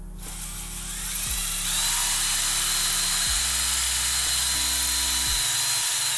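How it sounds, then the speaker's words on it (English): Electric drill spinning a sanding attachment along the fuller of a steel sword blade, a loud steady whine with several pitch drops as the motor slows and picks back up, close and with no talking. "we can actually use the drill to hand sand the fuller"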